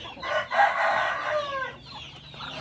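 Native Filipino chickens, chocolate or pinton Pinoy birds, being fed wheat, with close, lively clucking and squawking overlapping for a few seconds against a faint background hum.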